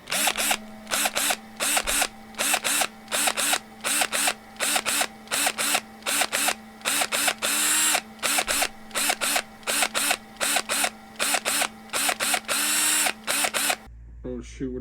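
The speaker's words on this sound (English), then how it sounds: "we can go ahead onto putting all these screws back in" A small electric screwdriver drives screws back into a PS4 Slim console in short repeated whirring bursts with brief pauses, close and fairly loud, ending with a cut to quiet.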